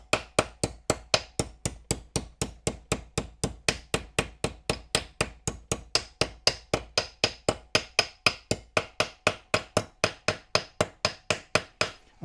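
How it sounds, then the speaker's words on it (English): A pin hammer taps metal capping on an Armortek 1/6 scale Series 1 Land Rover model, giving about forty crisp, evenly spaced strikes in a steady rhythm, close and clear with no talk. "repetitive strikes of the pin hammer"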